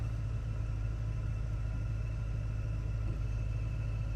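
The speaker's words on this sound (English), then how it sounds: "We have a nice idle." A 1984 GMC Sierra C/K 1500 pickup truck engine idles smoothly and steadily with a low, even rumble, heard alone and up close without sputtering.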